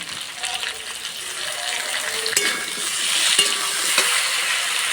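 Ground spice paste hits fried potatoes in hot oil in a kadai, sending up a rising sizzle and hiss with a few stirring clinks, steady and close.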